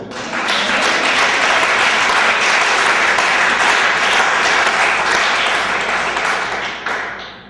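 Church congregation applauding at a Templo Betel worship service, a loud, sustained wash of many clapping hands filling the room for about seven seconds before tapering off at the end.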